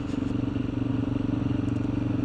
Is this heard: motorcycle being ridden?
yes